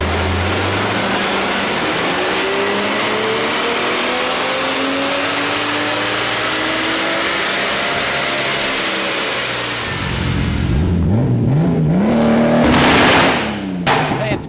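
A new Toyota A90 MK5 Supra being tuned revs hard nearby, its engine note climbing and falling through several loud sweeps, ending with sharp blips of throttle.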